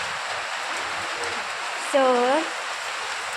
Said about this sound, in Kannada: ತೊಟ್ಟಿ ಮನೆ ಆದರೆ ಮಳೆ ಭರ್ಜರಿಯಾಗಿ ಈ ಥರ ಬೀಳುತ್ತೆ